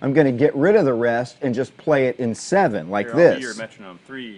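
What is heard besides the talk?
No everyday noise stands out behind the speech.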